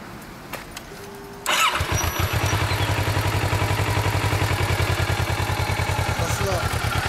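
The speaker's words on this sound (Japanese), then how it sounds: "エンジン音聞かせてくれる？" A lime green Kawasaki Ninja 650 (ER650) motorcycle engine starts after a quiet pause near a large pond, then settles into a loud, steady, throbbing idle close by; a voice is briefly heard before startup.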